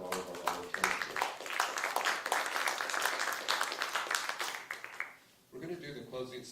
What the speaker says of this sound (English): how about a round of applause for all of our volunteers?